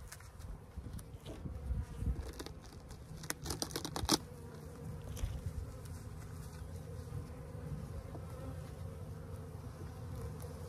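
Honeybees buzzing during a spring transfer from one hive to the next, a dense continuous drone close by, with scattered clicks and tapping of frames, no voices.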